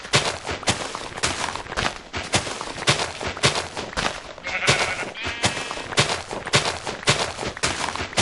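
Blocky sheep in Minecraft Alpha bleat repeatedly in short, sharp bursts, loud and close, one cry after another with brief gaps, alone with no talking.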